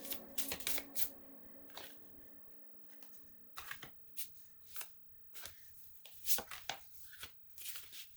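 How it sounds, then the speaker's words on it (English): Tarot cards are reshuffled by hand in a quiet room: a series of soft, close riffles and slides in short irregular bursts, with no talk. "I'm going to reshuffle these cards"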